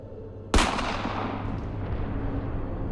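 A single sharp gunshot cracks out, followed by a long rumbling tail that lingers under steady low background noise.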